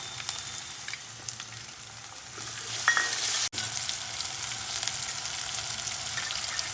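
Tomatoes and green chillies fry in a hot pan with a continuous close sizzle, a few stirring clinks and a brief sharp scrape partway through, no voices.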